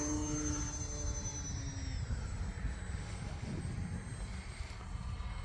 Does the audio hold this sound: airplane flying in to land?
yes